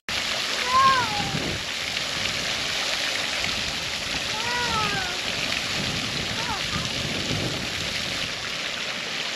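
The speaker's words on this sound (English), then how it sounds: "So the fountain's going, looks awesome." A garden pond fountain splashing water outdoors, a loud steady hiss and patter that runs throughout, with a voice and some faint wavering tones heard over it.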